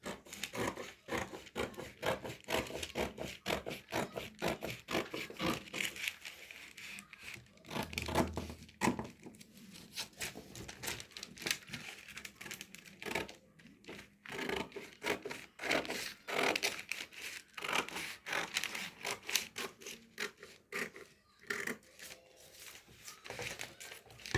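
A sleeve pattern for an exaggerated pointed puff sleeve is cut out with close, dry rasping and crinkling strokes in an irregular, ongoing rhythm, with brief pauses between runs of cuts.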